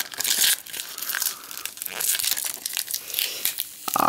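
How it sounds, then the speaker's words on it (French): Tape being peeled off the plastic packaging of a Pokémon trading card tripack, a busy close stretch of crinkling, tearing and rustling with no voices. "Alors, enlever leur scotch."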